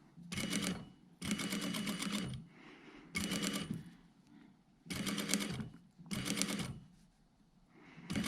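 A sewing machine stitches a jacket collar in five or six loud bursts of rapid stitching, with short quiet pauses between runs as the fabric is eased along.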